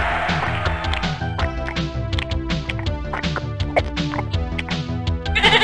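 A goat in The Game of Life video game on PlayStation bleats in a series of wavering, rhythmic cries, loud and close, repeating for several seconds without any talk.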